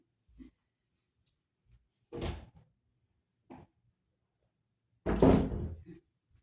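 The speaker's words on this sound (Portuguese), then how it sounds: "Deixa eu abrir a porta aqui para minha gatinha que ela vai ficar miando." A door is worked open indoors to let a cat in, giving a few soft knocks and bumps followed by a louder thud and rattle near the end, with quiet pauses between.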